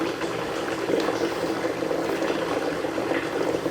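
Water pours steadily into a horizontal 55 gallon drum pig waterer, making a continuous close rushing, bubbling fill with no talk.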